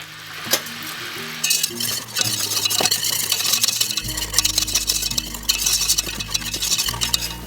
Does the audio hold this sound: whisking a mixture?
yes